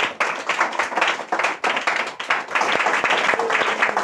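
A church congregation claps hands in praise during an Odia Christian Sunday service, a dense, continuous patter of many hands that swells and stays loud throughout, with no voices standing out.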